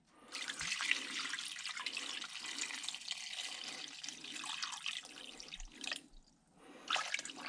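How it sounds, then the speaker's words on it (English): Water poured and splashing into a pot ready for boiling a carburetor, a steady hissing trickle with gurgling that briefly pauses near the end before resuming, fairly quiet and close with no talk. "Alright, we'll put more water in there."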